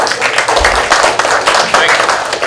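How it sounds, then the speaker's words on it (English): Steady applause from a crowd at a Republican men's breakfast, dense clapping filling the whole stretch at an even loudness. "Everybody needs to give him a round of applause."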